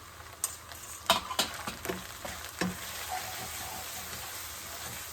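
Garam masala and cumin powder fry in a hot pan, a steady close sizzle with a few sharp crackles and pops early on that settle into an even hiss.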